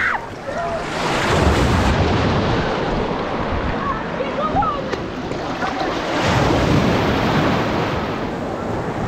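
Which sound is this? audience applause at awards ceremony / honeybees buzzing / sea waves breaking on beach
sea waves breaking on beach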